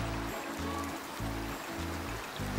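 A rushing stream flows in the hunting game Way of the Hunter, a constant watery rush that sits beneath a rhythmic low pulsing tone, with a brief bump at the end.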